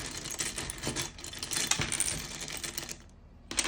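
Small metal charms are set down and shuffled, giving a steady run of clinking, jingling taps and rattles up close, with a brief quieter lull near the end before the clatter resumes.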